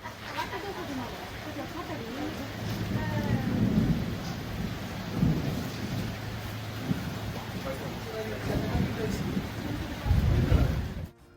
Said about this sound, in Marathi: थोड्या वेळामध्येच पावसाला पण सुरुवात झाली.